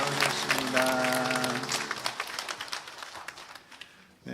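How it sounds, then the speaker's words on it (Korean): A church congregation claps loudly to welcome newcomers during a Sunday service. Dense applause begins over a sustained voice, then thins into scattered claps and fades out. "우리 큰 박수로 우리 환영하고 축복합니다."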